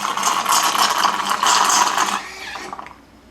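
A Jura J9 One Touch Cappuccino coffee machine rinses its milk system, giving a steady loud whirring, gurgling mechanical hiss for about three seconds before it cuts out and fades.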